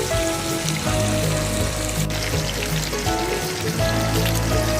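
Bacon strips frying until crispy in a pan, a steady, close crackle and hiss of spattering fat with scattered sharper pops throughout.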